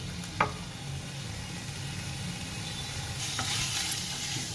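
Potato and pea sandwich masala with onion cooks in a pan, giving a continuous low sizzle. A couple of brief spoon scrapes break through, and the frying grows slightly brighter toward the end.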